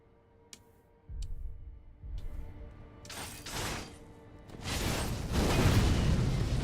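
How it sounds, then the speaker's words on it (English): A Sparking Axe prosthetic blast in the Sekiro video game: faint ticks give way to sharp bursts that build into a loud, sustained explosive roar at the end. "That is a much larger explosion than I was expecting."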